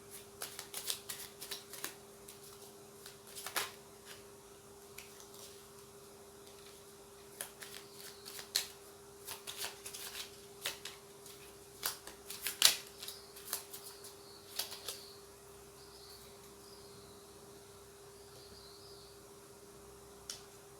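Oracle angel cards being shuffled by hand in a quiet room: a long run of crisp, dry riffling snaps and flutters in irregular bursts, close and moderately loud, with a steady low hum underneath and no talking.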